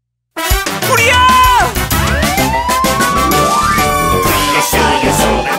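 A loud wailing fire truck siren rises and falls over bright children's song music, with tinkling tones and a bouncy backing track.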